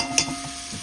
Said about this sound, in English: Now we're gonna let this fry up a little.